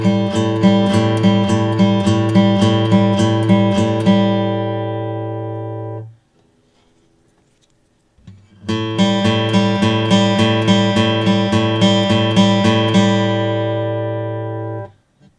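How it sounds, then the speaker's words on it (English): Guitar strings picked in fast, even runs, first with a round pick and then with a sharp pick, separated by a brief pause, each passage loud and close with no speech. "I'll demonstrate with a round pick first, and then I'll demonstrate with the sharp pick."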